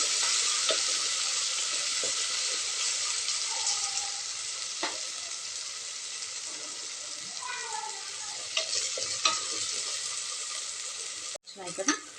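A pan of food fries until golden brown, giving a continuous loud sizzle with occasional scraping stirs and faint background sounds, ending in a short clatter.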